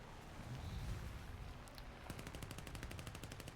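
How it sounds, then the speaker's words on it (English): Aircraft machine guns in the War Thunder combat flight game firing one short burst: after a quieter rumbling stretch, a rapid, evenly spaced rattle of shots runs through the final second and a half, faint overall. "One burst. A single burst."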